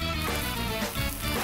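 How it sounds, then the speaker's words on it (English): Sandwiches frying in a hot pan with a steady, close crackling sizzle that holds even and continuous throughout the brief moment. "once you've got that beautiful sizzling happening, you want to just flip your guys over"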